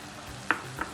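Beetroot halwa is stirred in a pan, with two short scraping strokes, close and fairly soft, over a quiet background.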